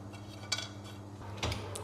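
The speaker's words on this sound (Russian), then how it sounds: "мы поджарим немного на сковородке грецкий орех" About 100 grams of walnuts toast in a frying pan while a nut-crumb cake is being made. Two sharp metallic clinks of a utensil against the pan stand out from a steady low kitchen background.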